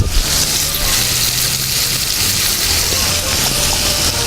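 Butter melting in olive oil in a saucepan, a steady close sizzle with a broad hiss that holds even and unbroken throughout, with no talk over it.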